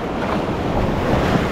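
Ocean waves and surf wash in a continuous, loud, broadband roar with wind buffeting the microphone and no voices.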